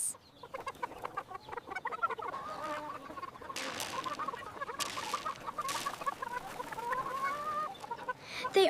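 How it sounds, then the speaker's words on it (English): Chickens cluck and a rooster calls on a cartoon farm, in busy overlapping bird calls that run steadily with no speech over them. "Hello, little chickens."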